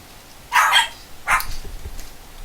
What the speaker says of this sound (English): if you heard my dogs, I'm sorry about that.